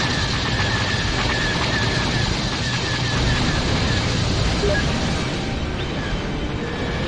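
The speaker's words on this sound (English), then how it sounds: "Oh, look at that laser fire." Rapid laser fire crackles through a TIE Fighter space battle against Y-wings and assault transports, a dense, continuous barrage of blasts with a steady roar beneath, loud and unbroken throughout.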